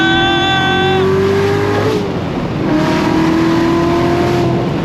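A C7 Corvette Z06 Lingenfelter 720 LT4 V8 with a seven-speed manual revs hard and climbs through a gear change, a loud, close, throaty roar that settles into a steady drone.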